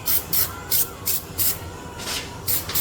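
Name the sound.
spraying cleaner on a 1929 hot rod engine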